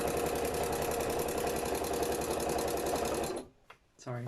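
A home sewing machine stitches a journal bag, giving a loud, steady mechanical whir with rapid rhythmic needle ticks for about three seconds before stopping abruptly, followed by a few faint handling clicks.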